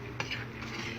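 A spoon stirs ginataang langka, a jackfruit and vegetable stew in coconut milk, in a pot, with one brief scrape near the start over a steady low cooking background.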